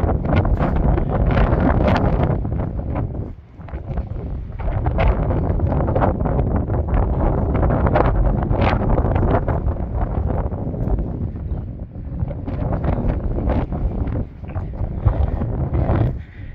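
Strong wind buffets the microphone outdoors beside a converted military container used as a solar power room, a loud continuous rumbling roar with gusty swells and a brief lull, no one speaking.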